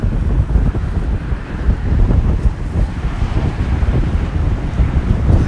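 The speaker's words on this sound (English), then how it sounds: "Big swells coming off right now." Big ocean swells breaking in a steady, loud rumbling wash of surf, rolling continuously with heavy wind buffeting the microphone and no voices.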